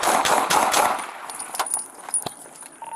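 A rapid volley of gunshots from sheriff's deputies, captured on a body-worn camera, crackles close in a fast burst at the start, then sharper scattered cracks and rattling follow, with no talking.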